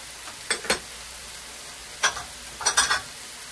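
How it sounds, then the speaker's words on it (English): Chicken casserole with mushrooms, parsley and chopped cloves stirred in a pan, giving a few short scraping strokes with gaps of quiet between them and a faint sizzle underneath. "we're going to stir this. We're going to keep stirring this until the mushrooms are cooked"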